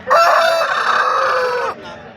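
A rooster crows once at a hen market in Pileru, a loud, close call that holds for nearly two seconds before breaking off, with faint market noise after.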